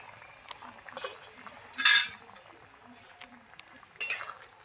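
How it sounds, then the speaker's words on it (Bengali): A pot lid is lifted off simmering chicken stew with papaya and carrot, giving a bright metallic clink and scrape near the middle and another clatter toward the end, over a quiet kitchen background. "এই ঢাকনাটা খুলে দেখব কত দূর হলো"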